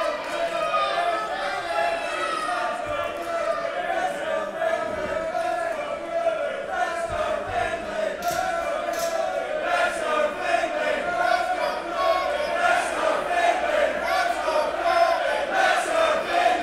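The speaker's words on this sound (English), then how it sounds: "This crowd is deafening." A split crowd at an SWE professional wrestling show, Finlay versus Martin Kirby in February 2012, chants and cheers in a steady, deafening roar that lasts throughout, with a commentator talking over it.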